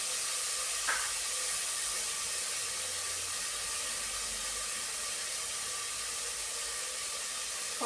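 Small onions and sliced onion sautéing in a pan: a steady, close, even sizzle and hiss throughout, with a faint clink near the start and no talk.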